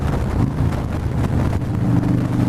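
Aftermarket exhaust pipes on a motorcycle give a steady, close, low rumble that runs without a break, with a little wind buffeting and no voices.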